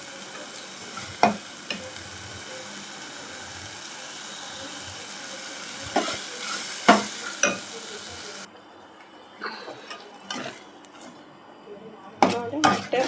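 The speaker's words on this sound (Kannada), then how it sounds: "ನೋಡಿ, ಮೊಟ್ಟೆ ಫ್ರೈ ಆಗಿದೆ." Eggs frying in masala in a pan give a steady close sizzle with intermittent stirring scrapes and clatters; the hiss drops partway through, then returns with a few sharper utensil knocks near the end.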